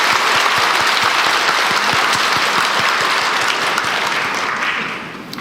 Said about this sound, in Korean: 우리 청소년들에게 한번 크게 격려의 박수를 보내주십시오.